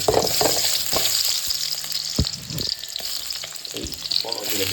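Onions sauté in a pan for a Kumari-style chicken curry, a loud, close, constant sizzle with intermittent scrapes and clinks of stirring, with no one speaking.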